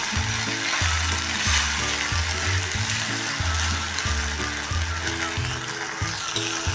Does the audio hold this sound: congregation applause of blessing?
no